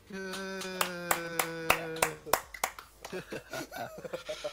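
Podcast hosts clap a few separate, sharp claps over a sustained musical tone, then scattered lighter claps and chuckles mix with voices.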